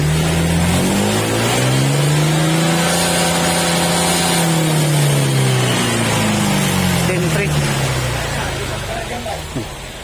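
A Honda Click125 V3 scooter with a remapped ECU and stock exhaust pipe revs loudly up and down, the engine pitch rising and falling, with a voice speaking over it.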